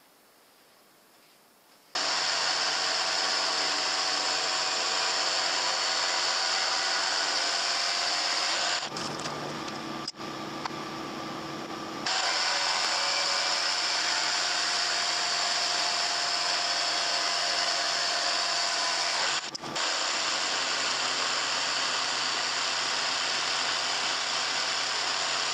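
A router (fraiseuse) carves a solid wood tray, whining at a loud steady pitch after a quiet start, dipping briefly around the middle before resuming its continuous high drone.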